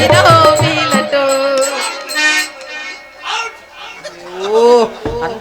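A cow mooing loudly and close in a rural Tamil village setting, with people talking over and around it, the lowing calls rising and falling amid the voices.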